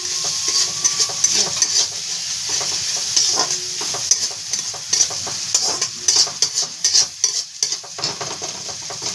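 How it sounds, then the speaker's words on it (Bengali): Whole cumin and dried red chillies tempering in oil with fried onion make a dense, crackling sizzle, broken by repeated stirring scrapes and clinks of a utensil on the pan, with no talk. "কাঁচা পেঁয়াজটাকে একটু ভেজে নিলাম প্রথমে একটু গোটা জিরে আর শুকনো লঙ্কা ফোড়ন দেবো আমি"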